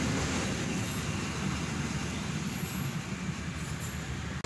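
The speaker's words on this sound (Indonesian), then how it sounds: "kereta api Joglo Semarkerto." A Joglo Semarkerto passenger train rolls past at night into Solo Balapan station, a steady, fairly faint rumble and wheel noise with no talk over it.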